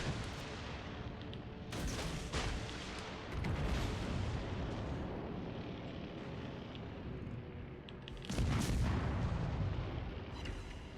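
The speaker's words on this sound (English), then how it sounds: "I want to see if I can't get all the, maybe some or all of the torpedoes in here" Naval combat in the World of Warships Legends video game as torpedoes are launched, with a dense, continuous roar of booming gunfire and explosions, heavier blasts near the start, middle and around eight seconds, loud and without speech.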